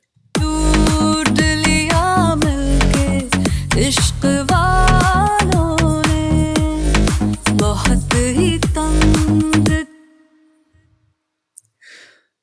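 A full mix of a Bollywood song from Pathaan plays loud and dense with a sung vocal over heavy beats for about ten seconds, then cuts off abruptly into near silence with a faint sound at the end.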